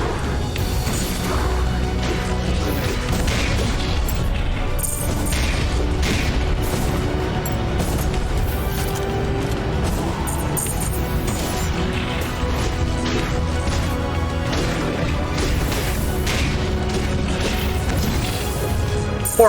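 Shotgun blasts in the mech game M.A.S.S. Builder ring out among a dense, continuous din of crashing impacts, mechanical clatter and explosions, loud and busy throughout with no clear speech.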